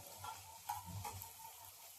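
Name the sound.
onions frying in a pan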